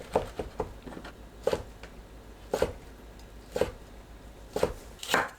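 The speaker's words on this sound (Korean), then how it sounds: "어묵을 한 입 크기로 썰어주세요." A knife cuts fish cake into bite-size pieces on a board, giving about five distinct, fairly regular chops with quiet pauses between them.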